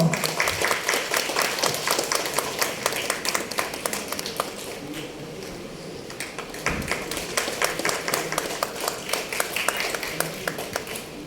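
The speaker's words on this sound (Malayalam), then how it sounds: "കയ്യടി പോരാട്ടോ" An audience at a Malayalam poetry gathering claps steadily for several seconds, dips briefly, then swells again into sustained applause.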